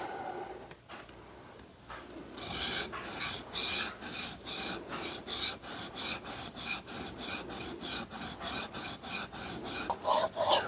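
A rare Sedgley No. 4 hand plane's sole is rubbed back and forth on an abrasive surface to flatten it, a loud, steady rhythmic rasping of about twenty even strokes, close up and without talk.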